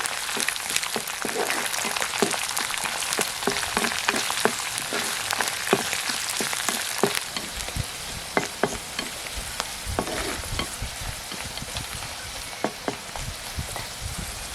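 Ginger and green chillies fry for lemon pickle with a dense, continuous sizzle, while a utensil scrapes and taps the pan again and again. It sounds close and loud, with no talk.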